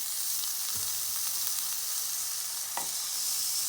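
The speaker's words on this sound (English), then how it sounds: "In the pan I have about a tablespoon of coconut oil. I'm gonna add my red onion," Red onion fries in about a tablespoon of coconut oil in a pan, making a constant, even hiss with two faint knocks of a utensil against the pan.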